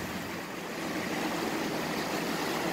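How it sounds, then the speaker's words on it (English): Steady, dense roar of floodwater churning through rapids in Rutland, Vermont, loud and continuous with no voices. "Came out a little bit further to show you the rapids."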